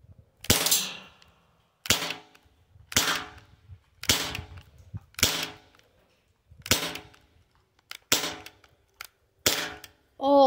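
Airsoft gun firing at a phone, about nine sharp separate shots spaced roughly a second apart, each a loud close crack with a short ring-out and near silence between.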